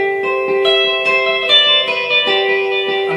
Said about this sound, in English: getting the delays louder than the original sound